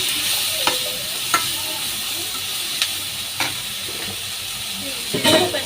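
Chili powder stirred and fried in a home pan, a steady hiss of sizzling with several sharp scrapes of the stirring utensil scattered through, close and moderately loud, no talking.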